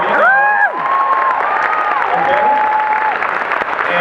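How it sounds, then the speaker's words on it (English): A convention panel crowd at DragonCon bursts into applause and cheering, with whoops and high shouts rising over a continuous roar of clapping; a single short spoken word comes early. "Can I get a round of applause"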